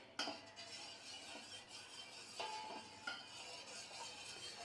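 Spoon stirring milk porridge in a pot, with scraping strokes and a few sharp metallic clinks against the pot rim at irregular intervals. The sounds are close and moderately quiet, with no speech.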